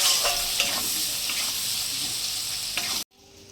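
Onions fry with turmeric in a pan on a village kitchen stove, giving a loud, steady broadband sizzle with occasional stirring scrapes before cutting off abruptly.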